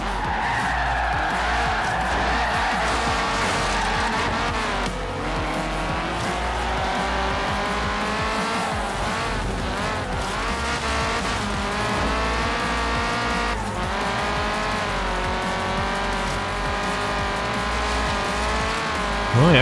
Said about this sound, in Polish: trzeba jechać od samego początku na najwyższych obrotach